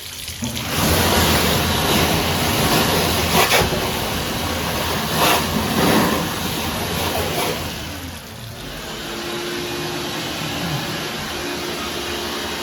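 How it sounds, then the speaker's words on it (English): A vacuum pulls clean water through a shower drain tube, giving a continuous loud rushing, gurgling slurp that holds steady for several seconds, then drops slightly in level and carries on as a softer hiss. "I'm going to vacuum a little clean water, just for funsies"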